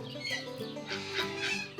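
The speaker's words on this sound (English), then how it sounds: "Then there's about 40 chooks." Around 40 backyard chooks kept alongside emus, pigeons, parrots and ducks cluck steadily and overlap in a busy, close flock chatter with no talk.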